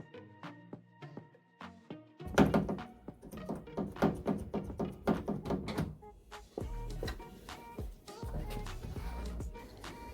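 The rear door of a Ford Transit Connect van is worked while its central locking is tested: a run of rhythmic clunks and latch knocks, followed by a heavier door thud and further close mechanical knocks.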